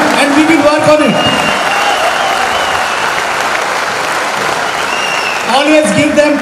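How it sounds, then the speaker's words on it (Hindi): Seminar audience at a direct-selling training session breaking into loud, sustained applause, a dense wall of clapping, with a voice heard briefly at the start and again at the end. "एक बार तालियां बजा के बताइए"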